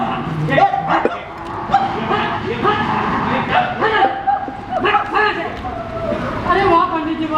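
A dog gives several short barks and yips mixed with whimpers, close and loud, while people talk over and between the sounds.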